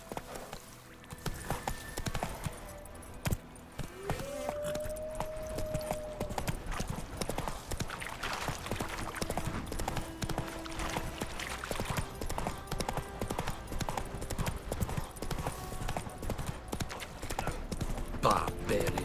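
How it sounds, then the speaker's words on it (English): Galloping horse hooves in the video game The Witcher 3, a continuous rapid clip-clop throughout with game music and ambience, occasional neighing, and a voice speaking over it. "Come on, Roach"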